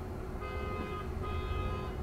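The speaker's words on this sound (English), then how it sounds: "I don't know what's going on with all the honking." Car horns honking in distant city traffic, faint overlapping toots layered over a low road rumble heard from inside a driverless Waymo car.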